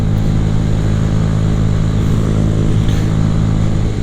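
A Honda Grom motorcycle engine runs in 4th gear while riding, a loud, steady close drone with a strong low hum and constant wind noise, no talking.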